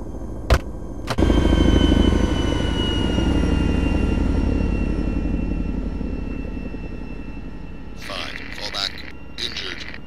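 A Chinook helicopter in a realistic 2019 war video game, a steady loud rotor and engine drone that fades slowly after a sharp thump, with brief voices breaking in near the end.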